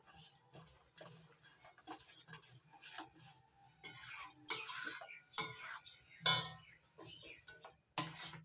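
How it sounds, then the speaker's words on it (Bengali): Semolina cake mixture stirred nonstop in a pan, with soft repeated scraping and clinks of the spoon against metal, quiet at first and growing sharper and louder toward the end. "এবার অনবরত নাড়াচাড়া করে নিতে হবে নাড়া কখনো থামানো যাবে না"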